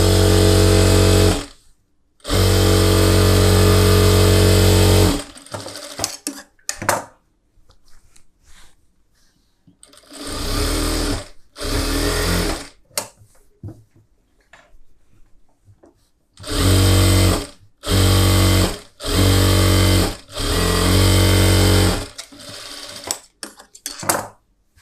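Sewing machine stitching blouse fabric for a collar-neck blouse, loud bursts of fast, buzzing motorized stitching that start and stop repeatedly, separated by quieter handling noises and brief pauses.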